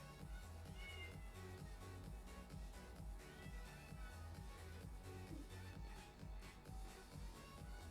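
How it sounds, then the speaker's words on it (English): Faint, muffled meowing of a cat from behind a wall, repeated several times over a steady low background hum. "can hear our cat through the wall."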